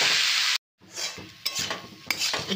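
Jackfruit curry fries in a pot while being stirred, a close sizzle broken by a brief silent gap, then scraping and clinking of a spoon against the pot.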